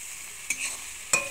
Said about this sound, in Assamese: আলুখিনি অলপ সময় মই ভাজি লম